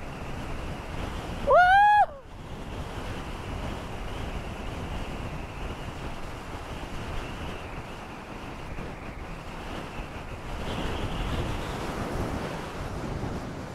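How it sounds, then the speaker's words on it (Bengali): Strong mountain wind buffeting a microphone during a Yamaha R15 V3 motorcycle ride toward Muktinath in Nepal, a continuous roaring rush with gusty swells, and an early short rising tonal whine. "প্রচুর জোর হাওয়া চলছে বন্ধুরা, প্রচুর প্রচুর জোর হাওয়া চলছে"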